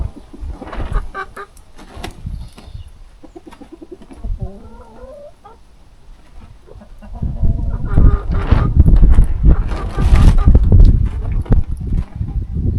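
Hens cluck and squawk close by, scattered calls at first, then a louder, busier burst of clucking toward the end.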